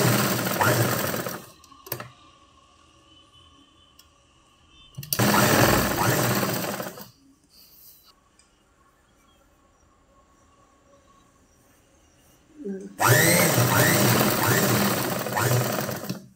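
Sewing machine stitching the seams of a dhoti pant, in loud continuous bursts of whirring motor and needle running, separated by quiet pauses.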